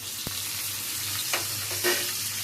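Uggani, a puffed-rice dish, frying in a pan: a steady broadband sizzle runs throughout, with a sharp clink near the start and a couple of brief stirring scrapes later, close and moderately loud with no talk.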